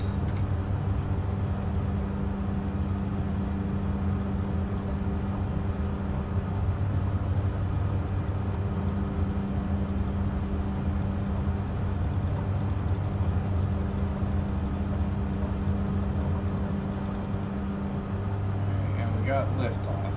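Steady aircraft engine drone from a small bush plane taking off in Microsoft Flight Simulator over Iceland, a continuous loud hum with a shift in pitch near the end, under someone talking.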